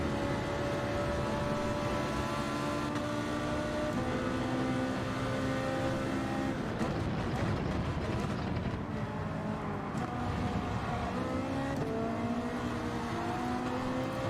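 Lamborghini and Ferrari racing side by side in a Gran Turismo 7 drag race, a steady loud engine roar that builds and shifts pitch midway, with no talking.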